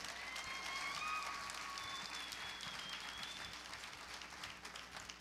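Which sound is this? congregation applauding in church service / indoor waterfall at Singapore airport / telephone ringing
congregation applauding in church service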